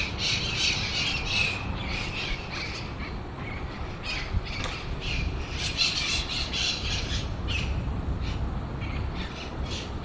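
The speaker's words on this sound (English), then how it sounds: "Yeah, there's like parrots up there" Parrots squawking and screeching up in trees outdoors, a steady chorus of harsh calls at a moderate distance over constant background noise from the street.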